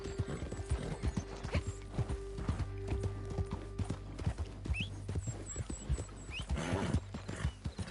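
Horse hooves clip-clop at a steady, repetitive gait during riding in Red Dead Online, with a short whinny partway through and occasional soft background sounds.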